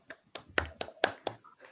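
Brief, sparse applause after an online mathematics talk on Galois cohomology: a handful of separate claps and taps, close to the microphone and fairly quiet, without a full audience roar.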